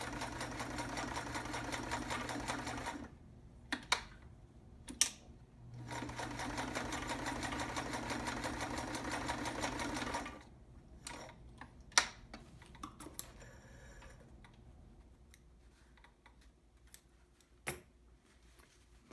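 An overhauled vintage Sears Kenmore 158.13200 heavy duty sewing machine stitches through four layers in two steady close bursts, then stops, followed by scattered clicks and handling taps.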